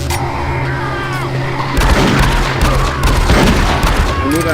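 Pistol gunfire in the VR shooter Doom 3 BFG: a loud, dense burst of shots and impacts erupts midway and continues over a rumbling game soundtrack.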